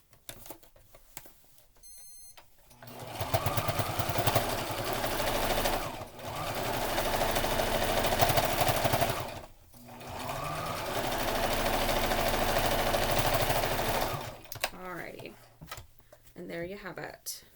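A sewing machine top stitches a fabric mask cover in two long, steady runs of rapid mechanical whirring, pausing briefly between them, close and clear, with a few clicks at the start and end.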